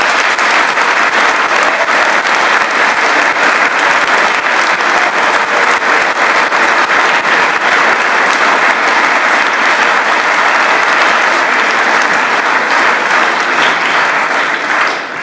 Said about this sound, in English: I would like to start out with giving them applause as well,